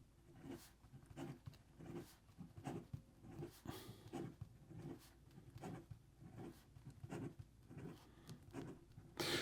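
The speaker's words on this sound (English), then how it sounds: "And then in regard to some fast writing," Nahvalur Plongeur fountain pen writing fast on paper: a steady run of quick, close scratchy strokes in an irregular rhythm, fairly faint, with no talking.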